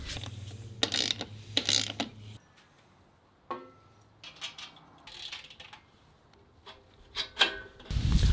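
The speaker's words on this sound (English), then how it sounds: "You just get little bolts and just thread it in from the back." Small bolts being threaded by hand into the back of gym bench cushions on a Force USA F-HG400 home multigym, heard as quiet intermittent ratcheting and rubbing clicks in short bursts with brief pauses, close and fairly soft.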